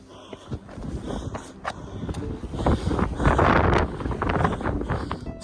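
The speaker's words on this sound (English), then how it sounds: "This wind is getting a little bit. It's blowing me around." Wind gusting on the Appalachian Trail and buffeting the microphone, rough low rumble that swells louder in the second half, with faint footsteps or rustling underneath.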